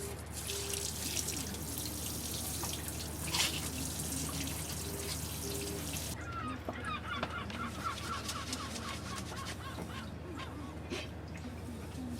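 Water runs steadily from an outdoor shower in the open air, a constant hiss and splash throughout, with honking geese calling nearby and a noticeable shift in the spray partway through.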